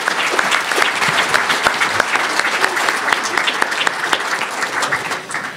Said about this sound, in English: how about a round of applause for all of our candidates and representatives?